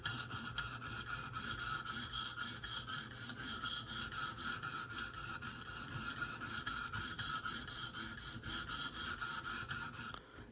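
A Smith & Wesson Extreme Ops knife blade is worked steadily against a sharpening stone to remove scratches. The rasping strokes are continuous and evenly paced, close and moderately loud, with no talking.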